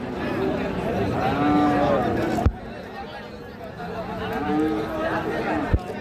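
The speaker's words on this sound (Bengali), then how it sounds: "এই যে এখানে একটা বেশ সুন্দর সাইজের গরু দেখতেছি" Cattle at the Raniganj livestock market moo twice in long, drawn-out calls, with a crowd murmuring steadily behind them and brief knocks in between.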